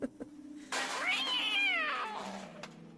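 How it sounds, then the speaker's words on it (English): A harmonized meow plays as a stream sound alert: one drawn-out, rising-and-falling cat meow with layered pitches, fairly loud and close, after a few faint clicks and a soft murmur before it. "Thank you for playing Harmonized Meow during that rant of mine."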